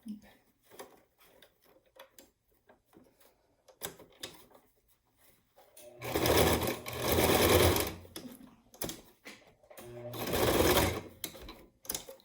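A sewing machine stitches through thick fabric layered with fusible iron-on interfacing while making surgical masks. It runs in two loud bursts of a few seconds each, with someone talking quietly in the pauses before and between them.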